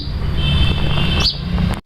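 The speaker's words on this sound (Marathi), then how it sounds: "चिमण्यांचा चिवचिवाट बघा" House sparrows chirp in a small home, a brief cluster of high, bright tweets over a low steady background hum.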